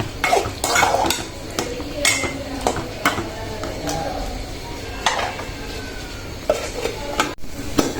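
Goat liver and lungs stir-fry with spices in a pan, where a utensil repeatedly clinks and scrapes the metal over a low sizzle and faint background noise.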